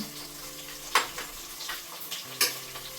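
Green chilies sautéing in a pan for a country-chicken biryani gravy, giving a soft steady sizzle with two sharp bursts of crackle and occasional stirring scrapes, close and without talk.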